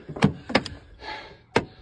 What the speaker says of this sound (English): Open the door, Kenzie.